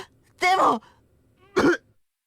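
Two rough coughs from a character in the visual novel Ever17, a longer one and then a shorter one, close and clear against near silence.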